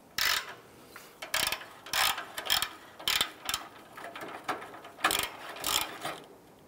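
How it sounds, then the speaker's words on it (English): A hand ratchet with a 14 mm socket loosens the exhaust flange bolts on a 2003-2009 Subaru Outback, giving close, crisp bursts of rapid clicking in repeated strokes with short pauses between, no talking. "Using a 14 millimeter socket on the flange bolts here."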